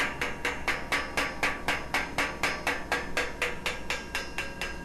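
Light hand hammer tapping on metal at a welding bench, a steady rhythmic series of about twenty sharp, close pecking strikes at an even pace, with no talk.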